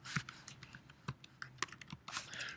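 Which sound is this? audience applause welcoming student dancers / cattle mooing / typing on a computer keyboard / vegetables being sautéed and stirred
typing on a computer keyboard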